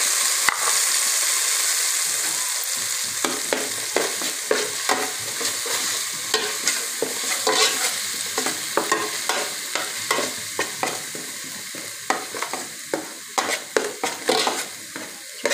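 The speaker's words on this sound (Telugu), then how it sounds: "చూడండి, ఇది పచ్చివాసన పోయేంత వరకు ఫ్రై చేసుకోండి కదా." Onion masala with turmeric for a mushroom gravy fries in a pan, a steady sizzle broken by frequent, rapid scraping strokes of a spoon that grow busier toward the end.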